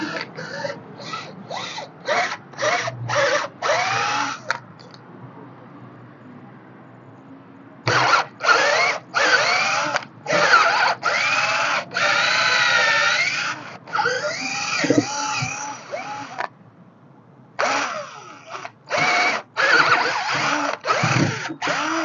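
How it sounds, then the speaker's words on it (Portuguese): An electric drill bores through a rubber tyre in repeated close, whining bursts of a few seconds each, separated by short pauses and a longer lull where the motor stops. "Vou botar a broca aqui, gente."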